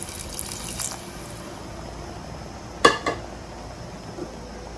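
In a home kitchen making stuffed brinjal ennegayi curry, water is poured into leftover masala with a soft splashy trickle and a couple of sharp utensil clinks, heard close with no talking.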